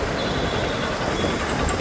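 A GHMC lorry sits stopped in a Hyderabad traffic jam, its heavy engine rumbling steadily and loudly up close amid broadband traffic noise, with no voices.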